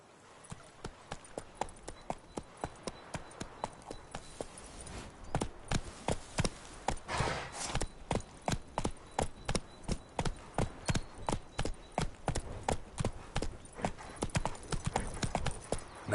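The horse Roach gallops in The Witcher 3, hooves clopping in a steady rhythmic beat that starts softer and grows louder and more pronounced, with a brief voice in places.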